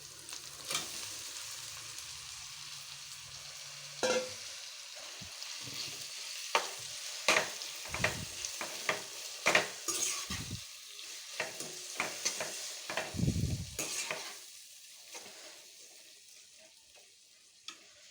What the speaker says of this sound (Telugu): ఇందాక కలిపి కూడా కీమాని దీంట్లో వేసుకుందాం